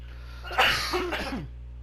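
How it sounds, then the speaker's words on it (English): A single hoarse, allergy-driven cough bursts out close to the microphone in a quiet indoor setting, a sharp explosive onset followed by a short rasping tail. "Sorry for the cough, allergies."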